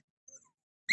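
A dog gives one brief, high whimper near the end, after nearly a second of near silence broken only by a faint, short squeak.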